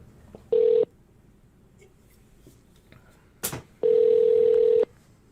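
A telephone call to a bookstore: a short tone, then a quiet pause, a click, and a longer steady ringback or dial tone. The tones are clear and fairly loud against low background noise.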